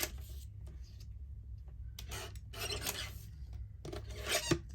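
Paper being trimmed for a collage page, heard as faint rasping cuts in short bursts over a low background hum, with no voices.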